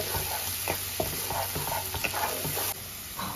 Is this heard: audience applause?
no